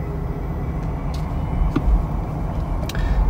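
A 2021 Jeep Wrangler Rubicon 4xe hybrid accelerating on an open road, a loud, steady low rumble of road and drivetrain noise heard from inside the cabin, with faint clicks and no talking.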